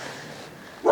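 A single short dog bark lands near the end, close and fairly loud after a quiet stretch of room tone during a walk-through of a house for sale.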